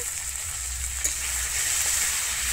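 Green tomato frying in oil with five-spice and chili gives off a continuous, even sizzle close by, with one small clink of a utensil partway through.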